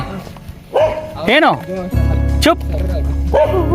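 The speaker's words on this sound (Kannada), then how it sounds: "ಅಲ್ಲಿ ನೋಡಿ, ನಾಯಿ ಬೊಗಳ್ತಾ ಇದೆ." A dog barks and yelps a few times nearby, with a person speaking over it.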